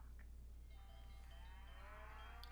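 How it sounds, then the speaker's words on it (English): Cattle moo in a radio advertisement in the Nancy Drew game The Secret of Shadow Ranch, a low, sustained lowing that rises and is laid under faint background tones, with no voices. "That's the sound of happy cattle"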